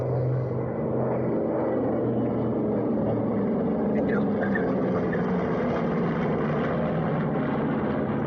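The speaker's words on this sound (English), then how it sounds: "One of 5 Mitsubishi Zeros flying today." A Mitsubishi Zero warbird makes a flying pass at an airshow, its propeller engine a steady loud drone with distant crowd noise mixed in.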